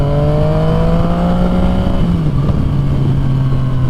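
A Yamaha FZ09 (MT09) motorcycle pulls through a gear, its loud engine drone rising in pitch, then dipping at a shift before steadying, with heavy wind rush throughout.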